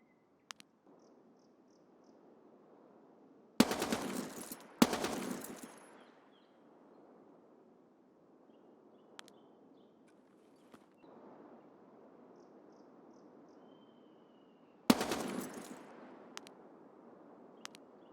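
Short bursts from a bipod-mounted machine gun in Escape From Tarkov, three sharp loud volleys separated by long quiet stretches with faint ambient hiss between them.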